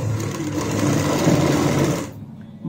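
A sewing machine stitches a sleeve in a fast, steady whirring run for about two seconds, then stops abruptly, leaving quiet.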